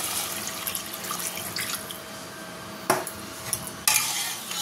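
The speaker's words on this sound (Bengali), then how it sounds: "এবার দিয়ে দেবো জল।" Water being poured into fried fish curry spice paste with cumin in a pan, a soft running splash and stirring with a few sharp clinks of a utensil, close and quiet.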